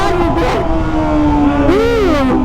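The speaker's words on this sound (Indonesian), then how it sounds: "Semoga suara motor kita tidak mengganggu guys." Kawasaki ZX25R motorcycle fitted with a Toce exhaust revving on a city street, a loud close engine whine that drops, then swoops up and back down in a sharp rev near the end.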